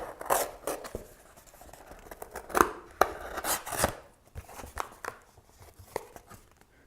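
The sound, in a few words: cutting away the cardboard spine hinge of a book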